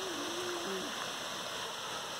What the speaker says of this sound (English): waterfall gully